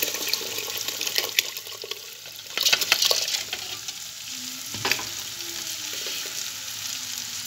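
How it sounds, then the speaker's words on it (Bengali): Rice tipped into a pot of boiling, steaming water for biryani, with bubbling and sizzling, splashes and a few clanks of the pot, no talking. "জলটা গরম হয়ে গেছে, দেখছেন ভাপ উঠছে, জলে জলটা ফুটছে, তো চালটা তুলে দিই।"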